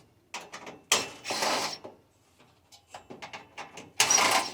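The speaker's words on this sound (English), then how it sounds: "We're gonna pop these screws off here that are holding the burner down" Screws are being removed from a gas range burner with a tool, giving short, close mechanical bursts of clicking and ratcheting with brief pauses between them.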